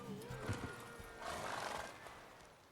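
Roach, the horse in The Witcher 3 game, gives a faint whinny followed by a few soft clip-clopping hoof steps, heard quietly at a distance.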